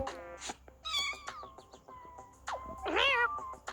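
A cat meows several times in short, rising and falling cries, close and fairly loud, with brief pauses between calls.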